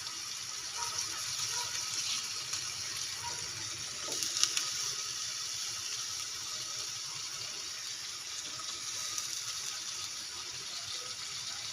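Water runs steadily from a tap into a cooking pot for potato soup in a home kitchen, a continuous hiss and gush at moderate level throughout with no talking.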